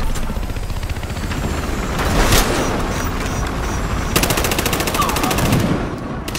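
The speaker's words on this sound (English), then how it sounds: "Machine gun mounted on the SUV." Machine gun mounted on an SUV in Battlefield Hardline rattles off sustained automatic bursts, loud and close, with a second rapid volley toward the end amid dense gunfire ambience.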